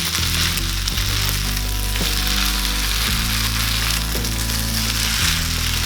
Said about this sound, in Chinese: 接着放入雞蛋、綠豆芽，拌炒均勻。